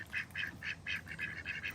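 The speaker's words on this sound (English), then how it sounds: "Sherbert is a khaki Campbell" A khaki Campbell duck makes a quick string of about eight nasal quacks in close succession, fairly faint against a low background murmur, with no voices.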